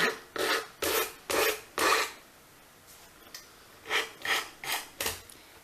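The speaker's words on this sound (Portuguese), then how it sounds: "Agora, com a lixa, eu vou passar a lixa nos cantos" Sandpaper rubbed along the edges of a surface decorated with glued napkin decoupage, a series of short rasping strokes, four in a row, a pause, then four more, close and alone.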